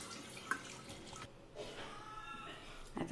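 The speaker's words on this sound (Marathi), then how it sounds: "डाळ जी शिजली आहे त्याच्यातनं आपण पाणी काढून घ्यायचं आहे।" Cooking water pours off boiled lentils being strained in a home kitchen for a Maharashtrian katachi amti, a soft continuous trickle and splash at close range with brief gaps.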